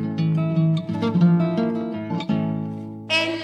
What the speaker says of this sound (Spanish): La guitarra suena así.